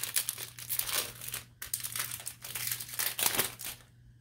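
Close, steady crinkling and tearing of a Garbage Pail Kids trading card pack's foil wrapper being pulled open, with a brief pause midway before the crackling resumes.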